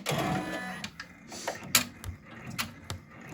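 An embroidery machine sewing a placement stitch on a hoop holding only stabilizer, starting with a whirring mechanical run and then settling into sharp, intermittent clacks and thumps at close range.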